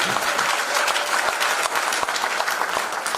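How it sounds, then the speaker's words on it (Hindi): A training audience for agricultural products bursts into loud, dense applause, sustained evenly throughout as a close, full crowd of clapping hands. "एक बार ये पांचों प्रोडक्ट के लिए एक बार जोरदार ताली हो जाए"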